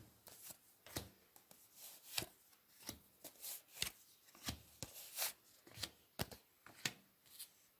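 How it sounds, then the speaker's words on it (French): Tarot cards laid out one by one on a table in a crescent moon shape, a series of soft, close slaps and brushing flicks at an irregular pace, quiet and without voices. "je place les cartes en croissant de lune"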